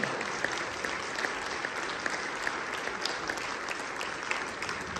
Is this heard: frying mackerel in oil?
no